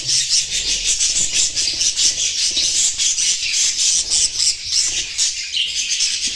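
Shrill, raspy squawks from a mother budgerigar repeat rapidly and continuously at close range, harsh and agitated, with no voices.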